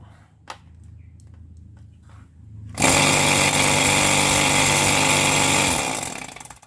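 A three-phase compressor motor from a Panasonic scroll air conditioner compressor, wired to run on single-phase power with a capacitor, starts after a quiet pause and hums loudly and steadily for about three seconds before winding down.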